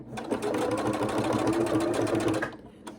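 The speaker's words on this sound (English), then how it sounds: "we're going to sew down the 3 inches to that second mark" A sewing machine runs steadily as it stitches a seam on an extra-large scrunchie, a close, even whirring buzz lasting a few seconds before it slows and stops.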